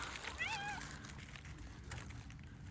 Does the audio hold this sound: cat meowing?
yes